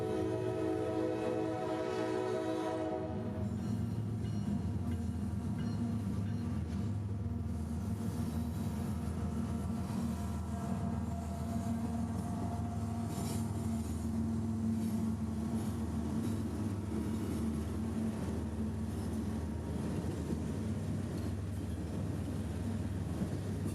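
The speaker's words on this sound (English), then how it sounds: "with the distant horn and the lowering of the crossing gates along the tracks in downtown, M60112 would appear" A CSX northbound freight train, M601, rumbles past in a Georgia downtown with a deep steady engine drone and rolling wheel noise, a distant horn sounding at the start before the continuous heavy passing roar takes over.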